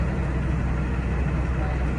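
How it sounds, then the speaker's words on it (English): A bus engine idles close by at an outdoor fiesta and trade show, a steady low rumble holding at one level throughout with no rise or fall. "That's the bus."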